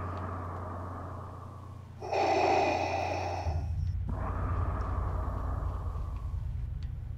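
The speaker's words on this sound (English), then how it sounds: "when he actually breathes in the game is when the breathing noise comes on." Heavy, mechanical respirator breathing from a Darth Vader suit mod in Fallout 4: a slow inhale swells into a loud hiss, then eases into a steady exhale over a low hum, with no talking.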